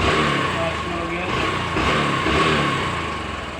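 An engine revving after a timing chain repair: a loud, close, continuous roar that swells and eases over a few seconds.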